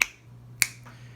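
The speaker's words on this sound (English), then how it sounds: "or by snapping their fingers." Two sharp finger snaps about half a second apart, close and distinct in a quiet room.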